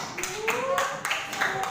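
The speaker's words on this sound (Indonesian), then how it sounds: "Tepuk tangan dulu dong." A few short rhythmic claps from a small audience after a class presentation, heard under a person talking.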